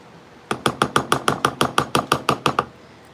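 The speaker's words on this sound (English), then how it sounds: "I need to switch to a whisk, because you cannot whisk salad dressing with a spatula." A whisk beats milk into salad dressing in a bowl, giving about fourteen quick, evenly spaced clinks that ring loud and close for around two seconds, with nothing else heard.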